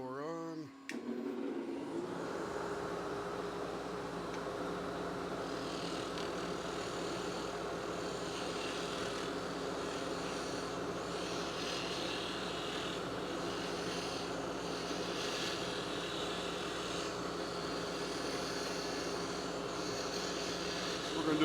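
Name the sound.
blower running during pen turning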